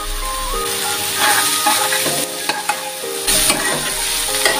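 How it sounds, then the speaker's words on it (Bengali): Onion and raw papaya sizzling and frying in a pan while being stirred with a utensil, a steady close hiss broken by scraping strokes and clinks, no voices. "এবার একটু ভালো করে নেড়ে নিতে হবে, পেঁয়াজ পেঁপে যেন ভাজা ভাজা হয়ে যায়।"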